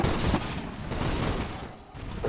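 Gunfire from a video game on a moon-themed map, a dense continuous burst of rapid shots with low booms across the whole stretch, loud and steady without a break.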